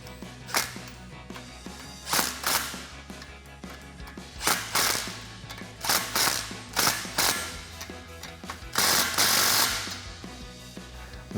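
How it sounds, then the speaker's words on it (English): A ratchet driving a 14mm socket clicks in repeated bursts while tightening tie rod brackets on a Jeep Wrangler JK steering stabilizer, with close, sharp pawl clicking and brief pauses between strokes. "Take a 14mm socket and tighten these down."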